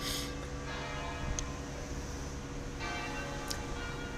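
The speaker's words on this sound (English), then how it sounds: "the bells of these various churches and whatnot sort of chime at roughly the right times" Church bells in Lecco on Lake Como ring distantly and faintly, a couple of soft strikes standing out over steady ambient hum.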